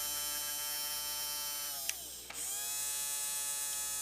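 The small electric motor of a Schuco Mercedes C111 toy car runs after a drop of oil on both ends. It gives a steady, even buzzing hum that dips briefly near the middle and then resumes.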